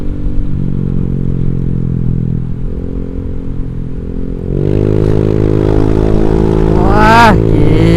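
Honda Vario 150 scooter fitted with a Black Devil aftermarket exhaust, revving with a steady droning note that climbs sharply in pitch and loudness midway, staying close and loud throughout.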